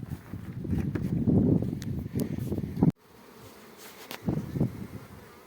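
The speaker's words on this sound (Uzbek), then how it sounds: "mana shu yerda ikki qator arimiz bor" Honey bees buzz around two rows of wooden beehives at an apiary of about fifty boxes, a steady close droning hum that cuts off abruptly midway, then returns fainter with scattered buzzing passes.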